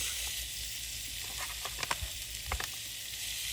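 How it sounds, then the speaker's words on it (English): Steady bright sizzling hiss from steak on a hot press, with a few soft clicks and taps of metal as it's pressed down. "You hear that sizzle?"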